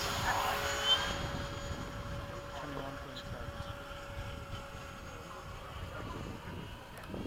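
An FMS 70mm F/A-18 electric ducted-fan model jet flies in to land at a club field, a thin steady whine over outdoor wind rumble, moderately distant, with a voice calling out at times.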